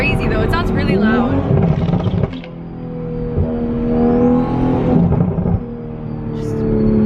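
Subaru WRX STI with downpipe, intake and turbo mod rumbling loud and close as it accelerates in a pull, engine note climbing steadily after a brief lull.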